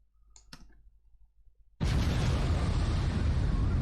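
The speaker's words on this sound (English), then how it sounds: "it just disappears into that explosion" A loud, sudden explosion effect from green screen footage in an animation project bursts in after a second or two of faint clicks and rustles, then roars on as a dense, sustained blast.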